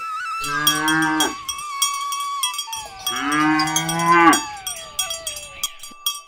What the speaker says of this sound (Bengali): সেই গ্রামে বৃন্দা নামে এক গরু তার বাছুর ডুগ্গুর সাথে থাকতো